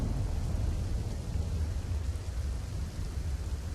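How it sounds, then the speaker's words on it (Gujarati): Heavy monsoon rain pours down at night in Morbi district, Gujarat, a dense, unbroken roar of hissing water throughout, with no voices. "માળિયા, હળવદ અને ટંકારામાં ધોધમાર વરસાદ પડ્યો."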